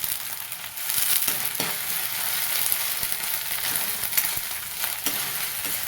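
Finely chopped tomatoes sautéing in a pan give a steady, close sizzle with stirring scrapes throughout, and no voices.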